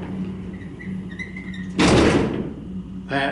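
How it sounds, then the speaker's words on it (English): The sliding door of a vintage traction elevator in a modernized office building, once hand-operated, slides shut with a loud rumbling thud. A quieter clatter follows, with a faint background hum. "You can see this used to be a hand-operated door."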